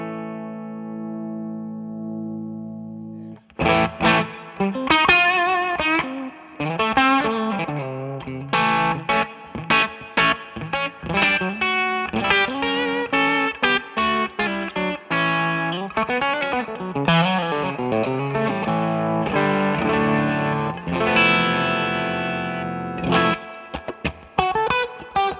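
Electric guitar through a Humboldt preamp, compressed and distorted, plays a busy, driven riff with fast picked notes and bends after a brief held chord, loud and continuous throughout.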